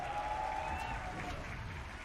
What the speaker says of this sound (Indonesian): pada tepuk tangannya